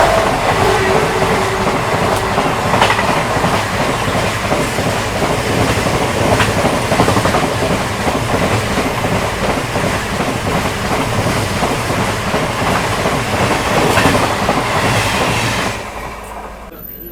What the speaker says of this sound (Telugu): సో అటుపక్క మెయిన్ లైన్లో ఏదో ట్రైన్ అయితే వస్తున్నట్టుంది